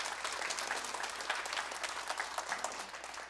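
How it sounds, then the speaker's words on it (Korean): A church congregation at a New Year Sunday service applauds newly appointed stewards with continuous, lively clapping of moderate loudness and no speech over it. "오늘 임명받은 우리 청지기들로서 한번 박수로 격려해 주시고"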